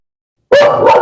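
A single loud, close dog bark breaking abruptly out of silence, followed by a short trailing yelp.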